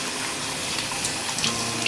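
Water runs steadily from a tap while a tie-dyed stole is rinsed out by hand in gloves, a continuous close gushing splash with small bursts of spatter throughout.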